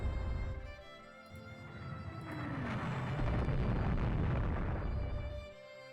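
Shell strikes an enemy ship's turret in the naval strategy game Rule The Waves 2, a low rumbling explosion that swells and sustains for several seconds before cutting off, heard alone.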